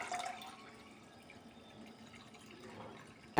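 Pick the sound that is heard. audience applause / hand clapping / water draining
water draining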